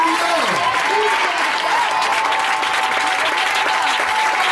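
A church congregation at a Sunday service claps loudly and steadily, a dense wall of applause with voices calling out over it.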